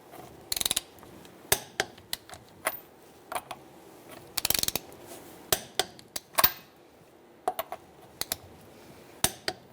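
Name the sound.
torque wrench tightening truck wheel lug nuts, 19mm socket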